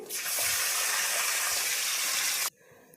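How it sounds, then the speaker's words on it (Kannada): Water pours into a hot pan of roasted dry fruits for mango kesari bath, a loud steady hissing gush that rises quickly, holds for about two seconds, then cuts off sharply, leaving a quiet bubbling. "ಡ್ರೈ ಫ್ರೂಟ್ಸು ರೋಸ್ಟ್ ಆಗಿದೆ, ಈಗ ನೀರು ಸೇರಿಸ್ಕೊಳ್ತೀನಿ."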